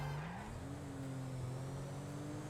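Car engine in GTA 5 failing and losing speed, a continuous strained drone whose pitch rises briefly then holds steady under constant road noise, no talking.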